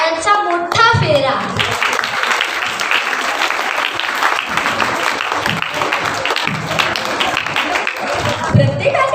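Sustained applause from an audience after a children's choral recitation in Marathi by standard five to seven students, dense steady clapping throughout with a few children's voices audible near the start and end.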